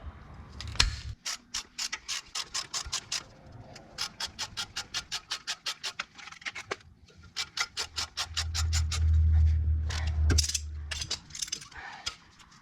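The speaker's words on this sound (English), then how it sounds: "Now that they're both in, we can go ahead and tighten them both." A ratchet tightens the brake caliper bolts on a 2000-2006 GMC Yukon Denali during a rear pad replacement: rapid runs of sharp clicks with short pauses between runs, close up, and a low rumble near the end, no speech.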